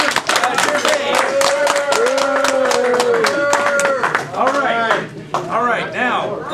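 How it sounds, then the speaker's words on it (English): An audience at a Common Cause Illinois debate event applauds, dense rapid clapping sustained throughout, while a voice talks over it with melodic intonation. "let's have a big round of applause for Trevor Gervais"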